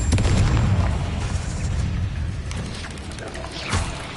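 A Confringo spell explosion in the video game Hogwarts Legacy: a loud, dense boom that rumbles on for several seconds, with a sharper burst near the end.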